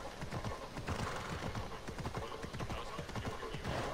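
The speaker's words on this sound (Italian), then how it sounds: "Notare come in città il cavallo diminuisce la sua andatura" A horse in the Assassin's Creed Odyssey video game clip-clops through a city at a slowing pace, the hoofbeats quiet and rhythmic, with a faint whinny and soft talk underneath.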